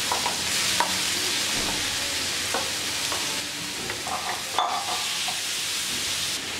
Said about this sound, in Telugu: ఒక 2 నిమిషాల పాటు ఈ క్యారెట్ తురుముని నెయ్యిలో కుక్ చేసుకోవాలి